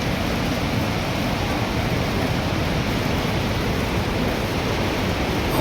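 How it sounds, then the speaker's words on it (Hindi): The Saraswati river falls between mountains near Mana village, a loud, unbroken roar of rushing water that fills the whole clip. "और आप देख सकते हैं नदी का शोर कितना तेज़ है। तो ये सरस्वती नदी यहाँ पर निकल रही है पहाड़ों के बीच से"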